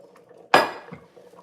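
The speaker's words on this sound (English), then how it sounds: "I'm gonna go ahead and grab this cast iron skillet." A cast iron skillet is grabbed in a home kitchen and gives one sharp metallic clank up close. The ring quickly fades into quiet room noise.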